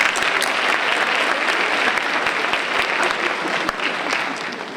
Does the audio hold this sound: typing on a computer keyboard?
no